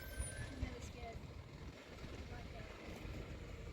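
A heavy truck reverses at a distance, engine droning low, while people talk nearby.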